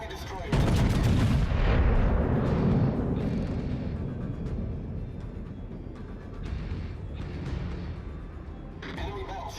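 Naval gunfire in the video game World of Warships: heavy, booming cannon salvos that roll into a long, loud rumble, with fresh blasts breaking through the decaying thunder.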